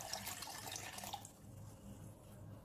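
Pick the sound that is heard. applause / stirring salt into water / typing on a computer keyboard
stirring salt into water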